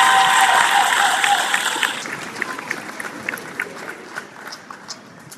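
Applause from a commencement audience at a college graduation ceremony, loud and dense at first, then thinning into scattered claps that fade over a few seconds.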